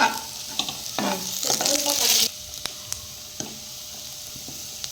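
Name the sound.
stirring fish curry rasam in a pan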